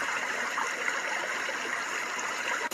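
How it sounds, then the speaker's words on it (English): Steady broadband rushing of flowing water, like a gentle river or small waterfall, played from a white noise machine, continuous and even throughout with no voices. "This one is a flowing waterfall or a gentle river"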